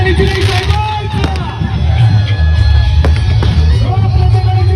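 A dense crowd at a political rally makes a continuous loud roar of cheering and noise, with amplified voices and horns mixed in throughout.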